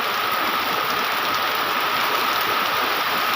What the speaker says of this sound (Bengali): ভোরবেলায় অনেক বৃষ্টি হয়েছে